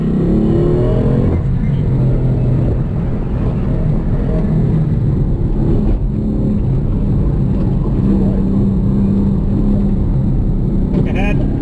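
A 2016 BMW M3 driven at a club autocross, its engine droning loud and close throughout with rising revs, while a coach talks over it.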